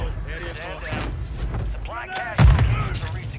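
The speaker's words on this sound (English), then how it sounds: "That nade was incredible." A grenade detonates in Call of Duty Warzone (Modern Warfare III) as a short, low thump late in the moment, under near-constant chatter from players talking over each other.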